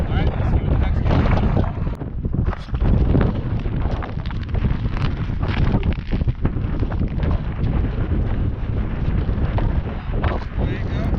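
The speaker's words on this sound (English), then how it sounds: "Super, super windy right now." Strong wind blows outdoors on a snowy winter fishing outing, roaring steadily and loudly against the microphone with broadband buffeting gusts throughout, nearly drowning everything else.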